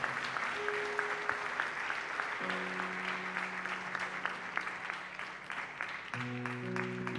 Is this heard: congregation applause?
yes